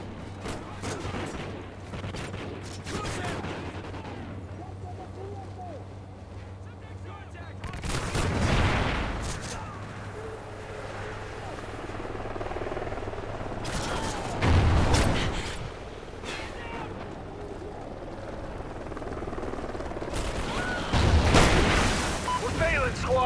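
Bursts of gunfire and booming blasts from the video game Call of Duty: Ghosts, with loud shots surging around three points over a steady rumbling battle bed, while game voices speak in between.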